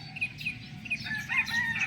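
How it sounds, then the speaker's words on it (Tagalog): Several birds call and chirp in short bursts against a steady outdoor hum, with brief, high-pitched, somewhat distant notes. "nakinig lang muna ako dito sa mga mga ibon natin"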